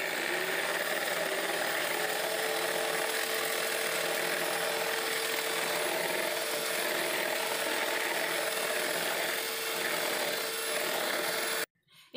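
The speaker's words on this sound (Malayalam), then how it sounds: "മൈദ എടുത്ത സെയിം കപ്പിൽ നമുക്ക് എഗ്ഗ് ബീറ്റ് ചെയ്യാൻ തുടങ്ങാം" Eggs are beaten in a cup for a Spanish delight cake, making a steady, close whirring buzz that runs continuously for about eleven seconds before stopping abruptly.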